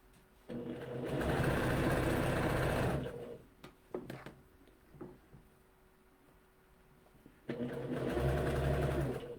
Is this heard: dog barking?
no